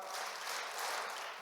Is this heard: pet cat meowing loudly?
no